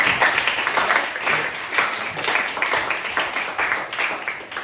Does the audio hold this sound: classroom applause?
yes